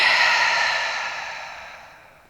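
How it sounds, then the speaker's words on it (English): A long, breathy exhale during a trauma-informed yoga session, a soft airy rush that starts fairly loud and gradually fades over about two seconds, close and alone. "Breathing in here."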